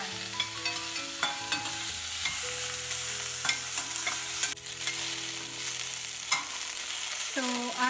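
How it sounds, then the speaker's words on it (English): Onion sautéing in a pan until translucent, with a steady sizzle and frying crackle and occasional stirring scrapes, close and continuous, while music plays over it. "We'll just saute this onion till they are translucent"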